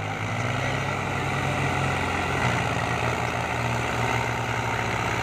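A Holland 5620 tractor hauling a loaded 13.5-foot trolley labours hard. Its engine gives a loud, steady, close drone with a throbbing low hum that holds without pause.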